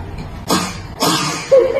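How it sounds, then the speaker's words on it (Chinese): A young boy gives two short, deliberate fake coughs to get his father's attention, each a quick close burst about half a second apart, with a brief vocal sound following. "居然跟他爸假咳嗽"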